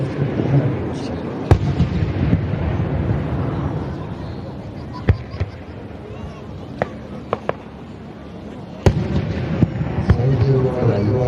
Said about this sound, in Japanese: 初めて海を作った花火を打ち上げる